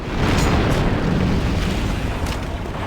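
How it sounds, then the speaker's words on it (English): A detonated charge explodes in the Star Wars Republic Commando video game, a loud deep rumbling blast that roars on for a few seconds with crackling debris, heavy and close. "The charge is set and ready to detonate."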